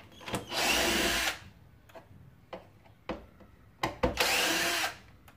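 A power drill with a T15 torx bit unscrews parts of a Philips Marathon vacuum cleaner in two loud whirring bursts, separated by quiet clicks and handling taps of the tool.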